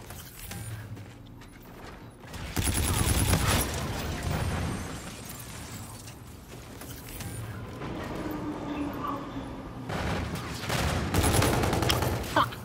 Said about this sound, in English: one teammate's just shooting, bro.